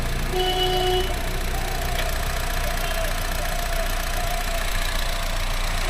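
The petrol engine of a 2018 Honda BR-V S idles with a steady, even hum and a faint mechanical rattle, heard alone and fairly close.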